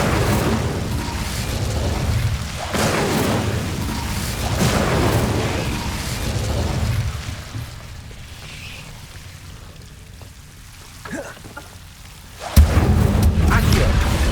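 Incendio fire spells in Hogwarts Legacy go off as repeated booming bursts of flame, loud and rumbling, with a sharp louder blast near the end amid game ambience.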